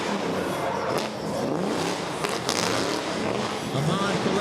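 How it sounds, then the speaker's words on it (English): At a drift competition, a supercharged Toyota V8 drift car revs and bounces off the limiter in loud bursts with sweeping pitch, while a commentator talks over it. "The supercharged Toyota V8 engine."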